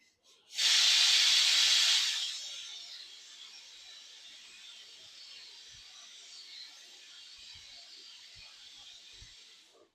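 A pressure cooker cooking a Yemeni soup lets out a loud burst of hissing steam lasting about two seconds, then settles into a softer, steady hiss.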